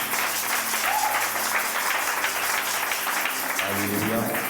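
Church congregation applauding in praise of the Lord, a steady wash of many hands clapping that fills the whole stretch, with faint voices and a brief tonal sound mixed underneath.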